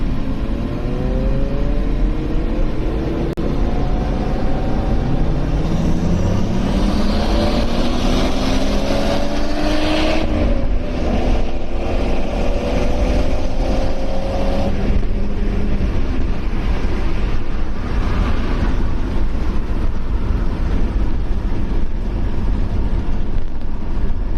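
Race car circling the racing track at Lakeside, Australia, a loud continuous engine roar with rising and falling pitch sweeps as it accelerates and shifts, heard from inside the car.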